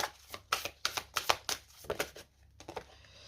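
Tarot cards are shuffled and drawn in a quick series of crisp, close riffling snaps and flutters that pause briefly near the end, with no voices.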